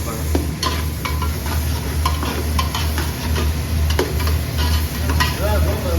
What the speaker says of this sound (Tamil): நான் தான் கிண்டிகிட்டு இருக்கேன்.